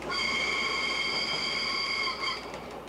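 A Circum-Etnea railway train runs near Mount Etna in Sicily, giving a loud steady rumble with sustained high squealing tones from the wheels, continuous throughout with no voices.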